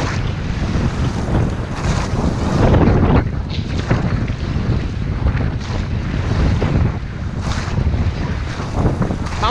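Strong wind buffets the microphone during rowing training on open water aboard a llaut, a steady loud roar of gusts mixed with splashing waves and boat noise throughout.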